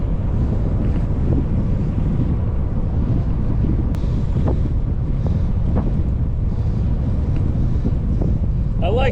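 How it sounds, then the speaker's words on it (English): Heavy wind roar buffets the microphone continuously while a cyclist rides into a strong headwind on a long road ride, loud and steady throughout with no break. "Been riding in this headwind for probably at least 7 or 8 miles so far."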